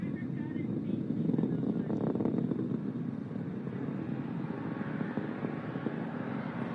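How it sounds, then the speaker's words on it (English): The RD-180 engine of an Atlas V 551 rocket roars steadily during ascent on the USSF-12 mission, a continuous distant rumble without breaks, heard under a commentator's voice. "RD-180 now throttling back up to full thrust as expected."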